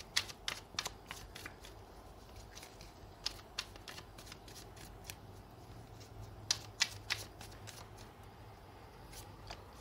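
Tarot cards shuffled close by in quick, crisp riffles and taps, irregular bursts of papery clicks over a quiet room, with no talking.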